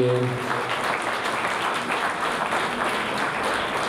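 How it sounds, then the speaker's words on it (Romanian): Dense, sustained applause fills the hall at an evening Christmas carol concert, with a brief voice at the very start before the clapping takes over evenly. "haideți să-i aplaudăm"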